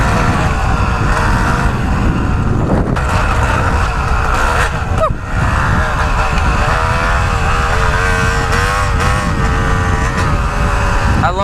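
Yamaha TT-R125 dirt bike ridden on tight, complex trails, its small engine droning steadily and close with revving rises and falls through corners, wind noise mixed in.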